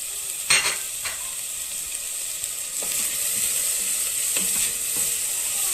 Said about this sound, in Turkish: Soğanımızı ilave ettik. İki diş sarımsağımızı ekliyoruz.